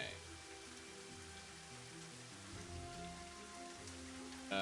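Rain in the video game Elder Scrolls 2 falls as a steady, even hiss of drops over a few seconds. A low musical drone plays beneath it, and no one speaks.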